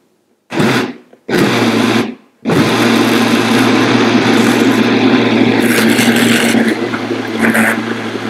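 A kitchen blender grinds oat cake batter with cinnamon, loud and close, pulsing on twice in short bursts before running steadily with a whining motor hum.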